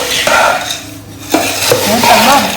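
A spoon scrapes and clatters against a bowl while puffed rice (mamra) is mixed, loud and close, with bursts of rattling and brief gaps; a voice speaks faintly underneath.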